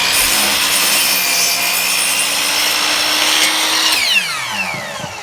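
Power saw cutting wood for a birdhouse, a steady loud whine running through the board for about four seconds before the blade spins down and trails off.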